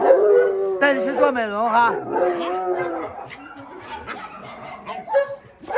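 Excited dogs at a mountain base howl in long wavering yowls, then break into yips and short barks, close and loud, while a person speaks over them.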